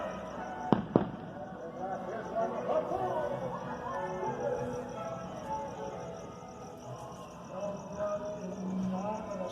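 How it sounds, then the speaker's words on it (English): Fireworks go off around a town at night, a couple of sharp distant bangs early and then scattered faint pops and crackles over a quiet outdoor ambience with light background murmur. "everybody around us is still doing fireworks."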